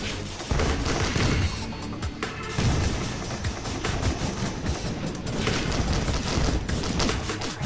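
Dense, continuous barrage of rapid explosive pops and bursts from a missile volley in the video game Risk of Rain, loud and sustained throughout with no speech.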